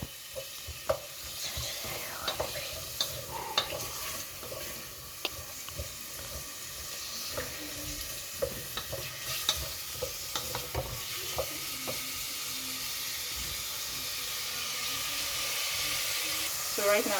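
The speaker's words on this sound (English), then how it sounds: "Let the onions cook a little bit before I add the tomatoes." Onions frying in a pan for a simple dinner give a soft, continuous sizzle, broken by scattered clinks and scraping stirs, with faint kitchen sounds and water in the background.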